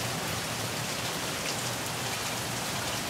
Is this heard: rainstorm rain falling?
yes